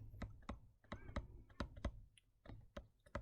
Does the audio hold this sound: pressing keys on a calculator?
yes